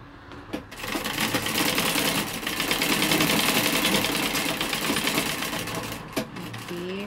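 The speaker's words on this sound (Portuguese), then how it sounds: "Costurou, ó." Sewing machine stitching leftover tricoline cotton fabric for a small table or stove cover, a steady fast mechanical whir with rapid needle chatter running continuously up close, briefly pausing near the end.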